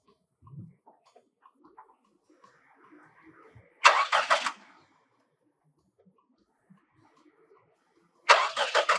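A car engine cranks and catches briefly, dies, then cranks again near the end, two loud bursts of starter and engine noise separated by quiet with faint background sounds.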